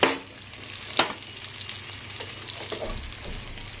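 Fish pieces fry in a pan with a steady sizzle, while a utensil stirs and scrapes with a few sharp knocks against the pan, including one at the very start; no talking.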